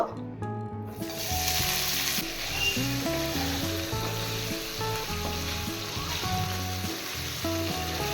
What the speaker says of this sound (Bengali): এবার এই তেলের মধ্যে পনিরগুলো ভেজে নেব